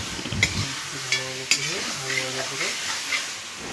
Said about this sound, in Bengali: মাংসগুলো ভালো করে কষিয়ে নিতে হবে।